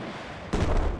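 Video game gunfire as a soldier is shot: one loud, close burst of shooting breaks in suddenly halfway through and continues as a dense, booming report.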